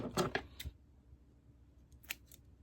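A few short metallic snips of sewing scissors, two quick cuts near the start and a couple more later, close by in a quiet room.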